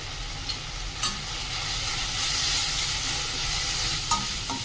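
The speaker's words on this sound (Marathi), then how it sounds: "कांदा आणि बटाटा चांगला परतून घेऊया।" Chopped onion and potato sauté in a pan for homemade wheat vermicelli, a steady close sizzle broken by a few soft stirring scrapes, with no voices.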